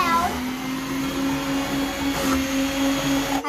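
A loud kitchen appliance on a high setting grates two carrots at a time, giving a steady whirring drone with a humming motor tone and rough grinding texture throughout.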